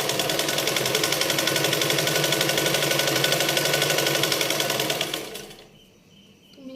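A sewing machine runs steadily for about five seconds, stitching a sleeve seam on the reverse side of the fabric, then slows and stops, leaving a brief quiet.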